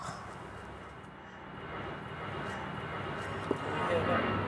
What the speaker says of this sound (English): that's an airplane. EasyJet, rare.